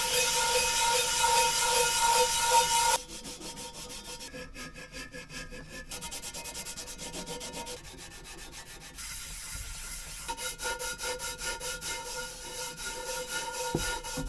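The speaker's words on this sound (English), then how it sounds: "I'm going to use an abrasive, this time just using some Scotch-Brite. And same process really, just going over this and scrubbing it down." A cast iron pan being scrubbed with Scotch-Brite abrasive pad: rhythmic back-and-forth rasping strokes, close and steady, shifting in intensity and pace across the clip, with no talking.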